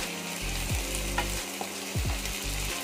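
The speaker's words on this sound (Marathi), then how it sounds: "त्याला आपण छान परतून घेते थोडस" Sliced onion sautéing in a pan for hot dogs gives a steady, close frying hiss, with a low hum underneath and a few scrapes from stirring.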